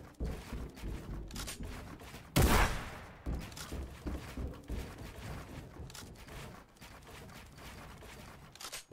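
Gunfire from a Fortnite Zone Wars 1v1 match on a desert map: a dense run of rapid shots with one loud, sharp blast near the start, then steady crackling bursts.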